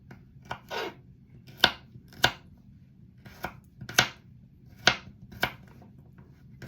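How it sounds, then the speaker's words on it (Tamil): Garlic is chopped into small pieces with a knife on a board for a tilapia fish kulambu, about a dozen sharp, irregular close taps with short pauses between, no talk. "பூண்டு வெட்டி கொள்கிறேன்"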